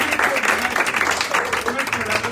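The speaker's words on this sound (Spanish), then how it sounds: "Todas las familias que estamos reunidos todos aquí, un aplauso." Family members gathered at a Christmas get-together applaud in a brief, busy burst of clapping, close and fairly loud, with voices mixed in throughout.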